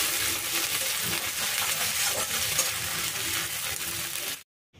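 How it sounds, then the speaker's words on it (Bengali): Dense, continuous frying sizzle of ginger-garlic paste in hot oil with occasional stirring, cutting off abruptly near the end. "আদা রসুনটাও ভালো করে কষিয়ে নেব"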